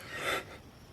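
A man camping alone in the woods yawns in the morning, one long breathy yawn that fades into quiet within a second.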